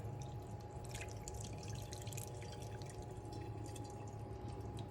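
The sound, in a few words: hot boiling water poured slowly over fish skin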